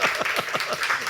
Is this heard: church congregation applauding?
yes